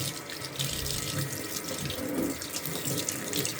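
Prawns are stirred by hand in a bowl of water, giving a close, continuous sloshing and splashing with small swirls, no voices.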